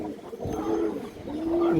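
Pigeons give a pair of low, rolling coos close by, the second swelling louder toward the end, with no talking.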